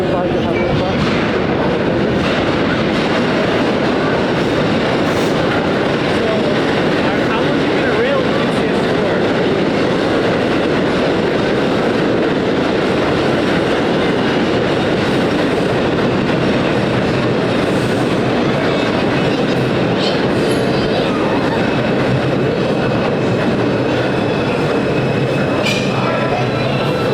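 A New York City subway train on the 1 line in Manhattan, a vintage holiday nostalgia run, roars steadily and loudly from inside the car with rattling wheels and occasional squeals, with faint voices beneath.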